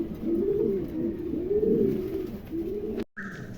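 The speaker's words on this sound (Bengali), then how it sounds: "চমৎকার একজোড়া কবুতর আছে" A pair of fancy pigeons kept by a pigeon seller coos close by in soft, low, repeated rolling calls. A short cut near the end is followed by a faint higher tone.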